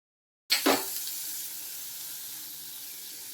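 Grated ginger dropping into hot oil in a pan for moong dal idli, a sudden loud burst of sizzle that quickly settles into a steady, even hiss, close up with no talk.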